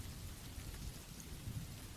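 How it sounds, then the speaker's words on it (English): Heavy, thick Pacific Northwest rain falling on a lonely coastal road, a faint, steady hiss and patter of drops throughout, with no voices. "It was raining heavily, that thick Pacific Northwest grey rain."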